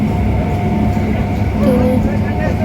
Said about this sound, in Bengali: ট্রেনে উঠে পড়েছি, ট্রেনে উঠে এবার যাচ্ছি, বারাসাতে নামবো।